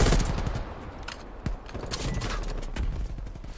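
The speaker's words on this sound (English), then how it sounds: "Where are we getting shot at from?" Rapid bursts of automatic gunfire in a multiplayer shooter video game, with dense overlapping shots from several weapons rattling continuously at close range.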